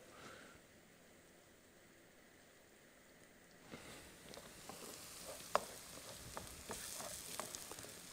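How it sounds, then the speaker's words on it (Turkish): Onions browning in a pan in a home kitchen, a soft steady sizzle that grows busier and crackly partway through, with scattered pops and stirring clicks, close and fairly quiet. "soğanlarımız güzel kavruluyor"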